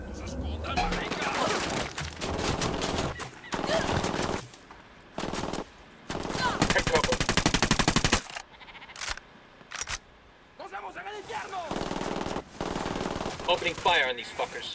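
Automatic gunfire from Tom Clancy's Ghost Recon Wildlands, including submachine guns, rattles off in loud repeated bursts and sharp single shots across the firefight, with brief gaps between volleys and game voices talking in between.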